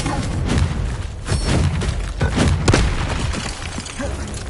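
Magical Confringo fire spell blasts in the Hogwarts Legacy video game: a rapid run of booming, crackling bursts, several close together and fairly loud, over a dense rumbling game backdrop.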